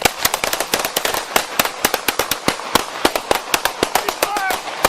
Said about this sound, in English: HQ, shots fired by police.